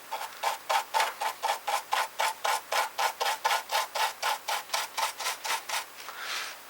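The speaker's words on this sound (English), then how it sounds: "Toothbrush time. Toothbrush seems to work ideally." A toothbrush scrubs over a plastic 1/16 scale Panzer IV Ausf H tank model in quick, even back-and-forth strokes, about twenty brisk close-up rubbing passes, with no talking.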